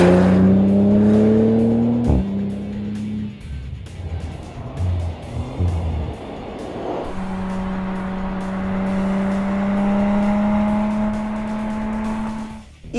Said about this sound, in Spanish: Un sonido de motor V6 que la verdad a mí me gusta bastante